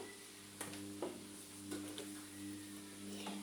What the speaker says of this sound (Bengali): এখন আমি ভেজে নিচ্ছি।